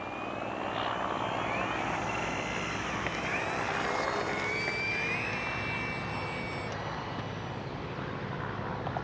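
An RC Spitfire model airplane takes off, its engine and propeller roaring loud and close with a steady drone and a gently shifting pitch as it climbs away.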